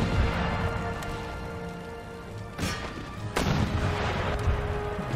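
Mortar artillery fire in Empire Total War during a siege of Paris, a steady rumbling din of battle with several sharp booming thumps and cracks rising from it, fairly loud and dense.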